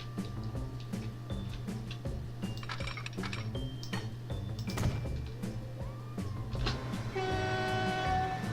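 A train rumbles along in the railway-building game Transport Fever with steady low mechanical drone, clicks and clatter, a horn sounding near the end.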